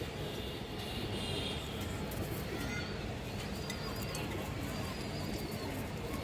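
Pigeons kept for sale, including a large female of the bagha breed, coo faintly within a busy, noisy backdrop of steady broadband rumble, with a few soft calls rising above it.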